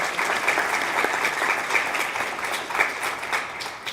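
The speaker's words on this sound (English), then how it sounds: "we give him a round of applause" A full audience round of applause at a student leadership recognition ceremony with scholarship awards, a steady, dense wash of many hands clapping at an even level for several seconds without talk.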